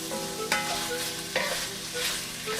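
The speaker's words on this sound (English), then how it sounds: "I'll dump those in, toss them in the bacon fat" White shimeji mushrooms sizzle as they are tossed in hot bacon fat, with a steady fry and a couple of sharp scraping stirs in the pan, close and loud with no talking.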